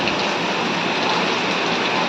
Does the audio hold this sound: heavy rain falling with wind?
yes